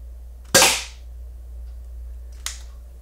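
Two sharp shots from an airsoft Desert Eagle pistol, a loud snapping crack near the start and a fainter, shorter pop about two seconds later, with quiet between them.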